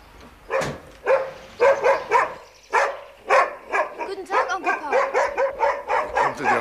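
A dog barks repeatedly, loud and close, starting with scattered barks and then breaking into a quick, steady run of yaps and whines.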